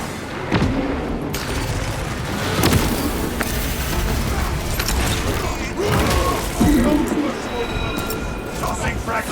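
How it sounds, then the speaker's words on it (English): A frag grenade blast in the game Warhammer 40k Space Marine 2, heard as booming impacts amid clanking mechanical combat noise and repeated loud thuds, with a character's voice talking over the action. "Tossing frag grenade."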